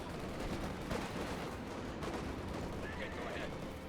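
Self-propelled artillery and gunfire in Company of Heroes 2 crackle in a dense, continuous battle din, with repeated sharp reports and booms layered under a voice talking.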